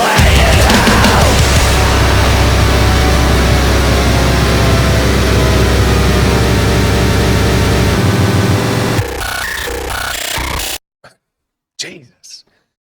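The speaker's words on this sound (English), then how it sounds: "Music nowadays is so friggin' heavy." Heavy extreme metal plays loud and dense for about nine seconds, with pounding low end and a wall of distorted guitars, then thins out and cuts off, followed by a few faint breathy noises.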